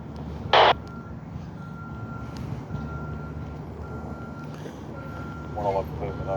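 A bus turning around sounds a few reversing beeps over a low idling engine rumble. A single loud beep comes early and fainter beeps follow later, with people talking nearby.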